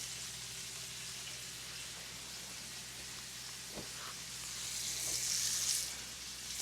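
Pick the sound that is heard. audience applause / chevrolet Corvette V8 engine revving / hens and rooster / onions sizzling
onions sizzling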